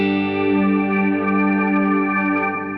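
Shimmer reverb from a TC Electronic Plethora X5 TonePrint swelling into a dense, sustained wash of layered harmonic tones, steady and loud with no breaks for almost three seconds, played alone.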